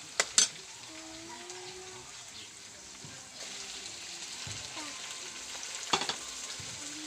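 Chopped tomatoes added to a hot pan while cooking bagoong (balaw) in Bicol, sizzling and frying steadily at low volume with a couple of sharp utensil clinks.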